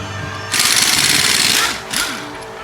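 Impact wrench rattling off lug nuts on a Tesla Model X, a loud close burst of hammering lasting over a second, followed by a shorter second burst over a background hum.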